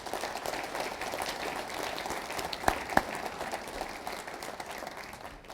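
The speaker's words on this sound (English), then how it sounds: "Join me in giving our Board of Governors a round of applause." Audience applause at a university convocation center opening and statue dedication, a steady broad clapping wash throughout with a couple of sharper claps standing out, no voices over it.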